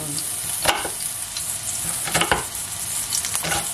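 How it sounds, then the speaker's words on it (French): Chopped onion browning in hot oil for a quiche with bacon and mushrooms, a strong continuous sizzle broken by a few sharp scraping stirs, close and loud, with nobody speaking. "Parce qu'on va faire dorer l'oignon."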